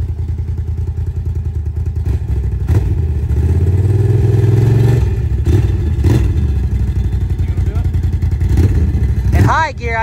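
Can-Am Outlander 1000 ATV in 4-wheel drive accelerating hard, a loud mid-pitched engine roar swelling through revs with clattering and thumps over rough ground.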